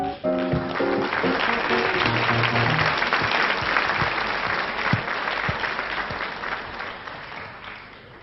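A studio audience at a French television show breaks into loud, sustained applause that fades slowly, with a brief musical sting at the start.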